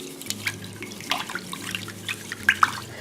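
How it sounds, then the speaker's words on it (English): Water runs and splashes in a sink while rice is rinsed by hand to remove excess starch, with close, irregular trickles and drips and a few sharper splashes near the end. "So I'm going to skip ahead and just rinse my rice"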